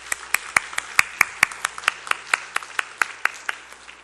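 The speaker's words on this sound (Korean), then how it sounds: "우리 그 열심히 찬양하신 우리 찬양대에게 큰 박수로 한번 칭찬하기를 바랍니다" A small church congregation clapping for its choir after a hymn during a Wednesday service, sparse rhythmic claps in a steady beat, fairly close and moderately loud in a quiet room.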